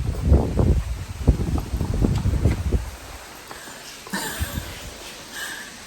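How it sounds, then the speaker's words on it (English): Wind gusting outdoors and buffeting the microphone in bursts of low rumble, loud at first then easing to a fainter steady rush. "You probably can't hear me because it's windy."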